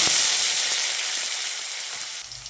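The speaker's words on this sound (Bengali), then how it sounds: "আলুগুলোকে দিয়ে নুন হলুদের সঙ্গে ভালো করে ভেজে নিতে হবে।" Potatoes frying in hot mustard oil with salt and turmeric, a loud, close, steady sizzle that crackles throughout and eases slightly toward the end.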